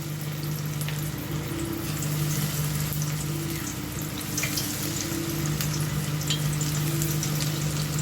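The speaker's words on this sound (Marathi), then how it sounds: "चला आपण आता एक एक काप ना सुटक सुटक असे टाकून सोडून घ्यायचे तेलामध्ये." Bitter gourd slices fry in hot oil in a pan, a steady close bubbling sizzle with faint crackles holding evenly throughout, no voices.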